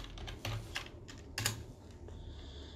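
Quiet, close typing on a computer keyboard: a short burst of separate key clicks, a few of them sharper, with no voices.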